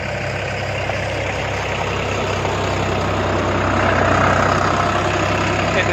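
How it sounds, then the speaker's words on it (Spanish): A tractor passes outdoors as a steady, loud engine drone with low rumble throughout, swelling slightly toward the later seconds as it goes by, with no talk over it. "Vamos a esperar que pase el tractor."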